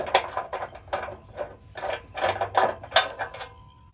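Ratchet wrench clicking in rapid bursts while unscrewing bolts on a stock Mazda 6 axle-back exhaust, close and fairly quiet, with a brief pause between strokes.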